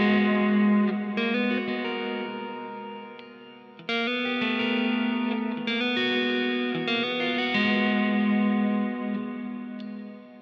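A Chapman Stick played through effects rings out in sustained, chorused and distorted tones, with several sharp new attacks layering over lingering echoing notes, loud and alone.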